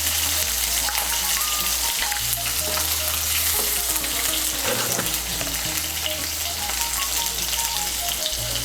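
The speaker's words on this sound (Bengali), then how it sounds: "বেগুনটাকে লাল করে ভেজে নেব" Eggplant cubes seasoned with salt and turmeric fry loudly in a pan, a steady close sizzle with occasional stirring scrapes throughout.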